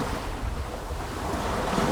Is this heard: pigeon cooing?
no